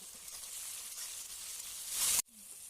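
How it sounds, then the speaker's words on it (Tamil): Tomato and curry leaves frying in hot oil for rava kichadi, a soft steady sizzle that swells louder just before cutting off abruptly. "தக்காளி போட்டுக்கோங்க. கருவேப்பிலை போட்டுக்கிறேன்"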